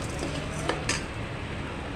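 Peanuts, chana dal and coriander seeds dry-roast in a pan while a metal spoon stirs them, giving a steady scraping rattle with a couple of sharper clinks against the pan, close and fairly quiet.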